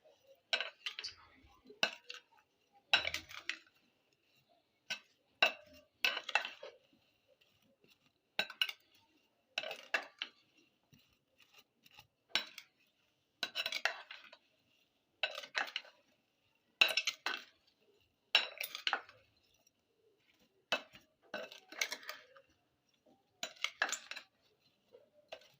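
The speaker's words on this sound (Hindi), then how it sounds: "इसको अच्छे तरीके से मिक्स कर लेंगे।" Guava chaat is stirred and mixed in a bowl, with a spoon clinking against the sides in repeated rhythmic bursts, close by and separated by short pauses.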